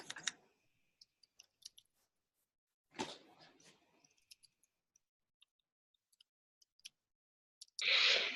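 Sparse, irregular clicks and taps scattered across a quiet room, with a couple of brief louder rustling bursts between them.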